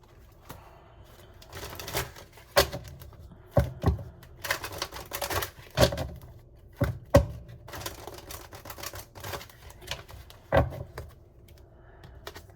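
A deck of cards is shuffled in a string of crisp papery bursts and snaps, close and fairly loud, with no one speaking.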